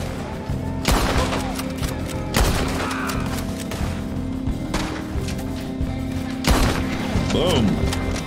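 Bolt-action rifle shots ring out in Red Dead Redemption 2, several loud cracks spaced a couple of seconds apart with lingering echo, layered over game ambience and a brief whistling tone.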